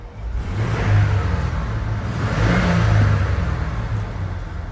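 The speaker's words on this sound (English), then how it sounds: "It sputters. Depending on where your foot is, on the throttle, it will just completely cut out and give you no power." Engine of a 1994 Ford F-250 with a 4.9L straight six and a sputtering fault, heard as a loud, close, steady rumbling rev that swells and eases twice without breaking.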